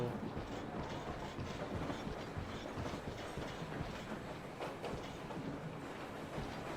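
A train rolls along steadily in the video game Metro Exodus, a continuous rumble with rhythmic clickety-clack of wheels on rail, heard from onboard at a constant moderate level.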